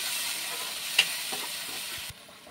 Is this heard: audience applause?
no